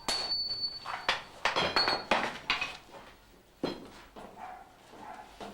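Steel block struck by hammers during Japanese swordsmithing, stretched before folding: a run of sharp metallic clangs in an uneven rhythm, loud and close, with ringing overtones and short gaps between blows.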